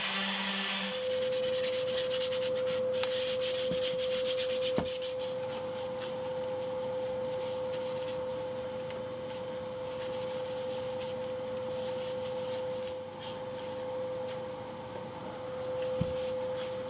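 Steady, continuous scratchy rubbing of 320-grit sandpaper by hand on an electric guitar's wooden body, a soft even hiss with a faint background hum and no talking.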